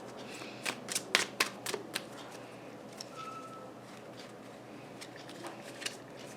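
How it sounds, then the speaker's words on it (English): Tarot cards laid down one after another on a table, a quick cluster of soft, crisp slaps and shuffles close by, followed by a few scattered lighter taps in a quiet room. "I'm gonna lay down immediately 4 cards representing you."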